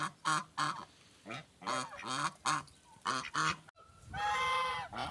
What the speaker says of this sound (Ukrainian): І ось ця гусочка більше похожа на лінду.